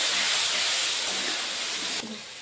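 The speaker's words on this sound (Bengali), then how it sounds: "সামান্য একটু জল দিয়ে দেবো, মশলাটা কষানো ভালো হবে তাহলে।" Water splashed into a pan of frying spice paste for a meat curry sets off a loud, steady steam hiss and sizzle that runs throughout, then drops and changes near the end.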